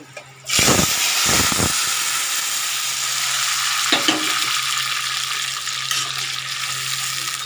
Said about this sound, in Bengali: এবার আমি এটা একটু ভাজা ভাজা করে নেব